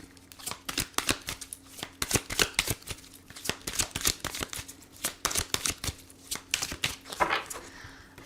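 Tarot cards are shuffled and cut by hand, a close, steady series of sharp papery flicks and snaps with no talking.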